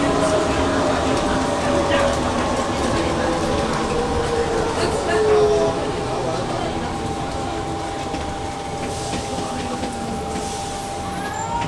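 A Bombardier Innovia APM 100 automated people mover arrives at Huangpu Dadao station on the Guangzhou Metro APM line, with a steady interior rumble and rolling clatter as it slows, while a recorded station announcement plays over it.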